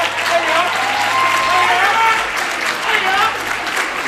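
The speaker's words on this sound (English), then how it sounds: "So can we have a round of applause for Marissa Lane, Kelsia Meadows, Bella Hill" Sustained audience applause fills a band banquet hall, dense and steady clapping throughout with a few cheers and whistles rising above it.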